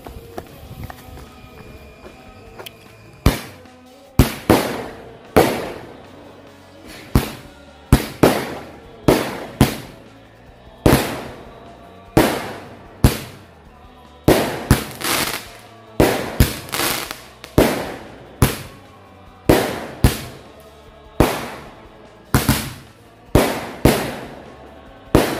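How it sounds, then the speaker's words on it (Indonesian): Eight-shot Roman candle fireworks, two lit at once, fire in a rapid series of sharp bangs, dozens of loud pops in irregular bursts, each with a short crackling decay. "kita nyalakan 2 buah mercon Roman Candle 8 lesutan sekaligus"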